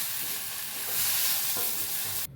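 Chopped onion, green chili and ginger with salt get stirred in a hot pan, heard as a steady close sizzle with soft scraping that stops abruptly at the end, and no talking.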